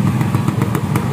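Yamaha RX King motorcycle with a modified, glasswool-packed exhaust revving briefly in drizzly, wet conditions: a steady, loud engine drone with quick rhythmic pulses and no talking.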